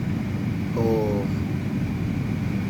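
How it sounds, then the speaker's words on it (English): A hardwired AC blower runs steadily, pushing air through the vents as a constant broadband whoosh with a low hum, loud and unbroken for the whole stretch, with a faint brief whine partway through. "I got my regular blower, I got it hardwired, so it's already on."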